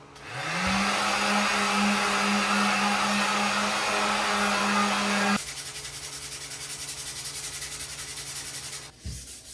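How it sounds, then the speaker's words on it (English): Power sander working over a cheap guitar body, a loud continuous whir with a steady motor tone that drops to a lower, rougher grinding midway before cutting off, close and alone. "I'm gonna sand this whole thing down and then hopefully put a clear satin finish on it"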